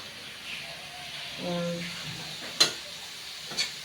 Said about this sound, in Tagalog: Haluin muna natin ng maayos. Saka hintayin na maluto ang sayuti.